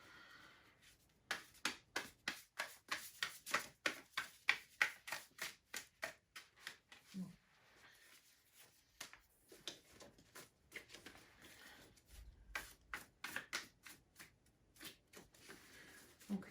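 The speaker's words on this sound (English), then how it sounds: "shuffle." A deck of homemade oracle cards is shuffled by hand in quick, crisp bursts of riffling and tapping, repeated rhythmically and close up but quiet, with no talking.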